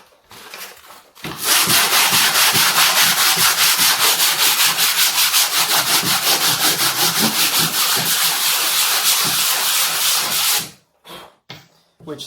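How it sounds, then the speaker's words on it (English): Steady, continuous scraping of abrasive paper rubbed back and forth over wood, loud and close, running for about nine seconds before stopping abruptly. "you can use the sanding block."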